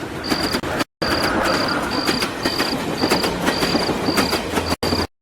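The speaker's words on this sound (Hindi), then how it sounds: "तभी दूर से ट्रेन की आवाज सुनाई दी" A train passes at a distance in a quiet outdoor setting with trees between listener and track, a steady loud rumble and rhythmic clatter with a repeating high tone, cut by two brief dropouts.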